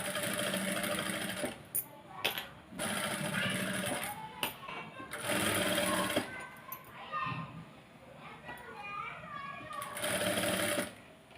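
A sewing machine stitches a readymade half-saree for a small child, running in several fast bursts with short pauses between them while a person talks over and between the runs.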